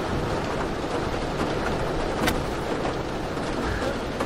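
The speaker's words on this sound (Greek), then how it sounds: "Έξω βρέχει αρκετά" Heavy rain pours down outside in the mountain villages of Pomakochoria, Greece: a loud, dense, unbroken wash of noise with no voices.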